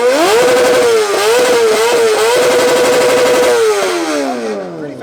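A motorcycle exhaust revving loudly at an exhaust competition featuring muscle cars, trucks and JDM machines, with repeated rising and falling blips of the throttle close by, ending in a long descending wind-down.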